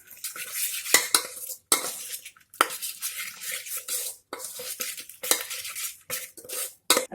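A spoon stirs and scrapes farsan bhel ingredients with sweet chutney in a bowl, producing repeated close, uneven rustling and clinking strokes with brief pauses between them.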